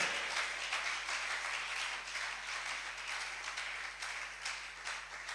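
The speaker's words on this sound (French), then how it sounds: "Applaudis bien le Seigneur, ça vaut la peine." A church congregation applauding, a dense, even wash of many hands clapping that continues steadily at moderate volume, with a faint low hum beneath.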